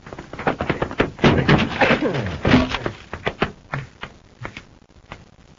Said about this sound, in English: Let's force the door, Hap.